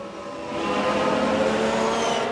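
A Ferrari Formula 1 car spins out in the racing game F1 Manager 22, a high engine whine rising and sustained briefly at moderate volume, heard alone.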